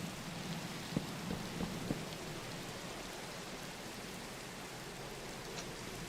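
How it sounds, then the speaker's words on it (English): Steady hiss of rain falling on a surface in a video game, continuous and even throughout, with a few faint drip-like taps early on and no voices. "you've never seen anyone so interested in rain sounds"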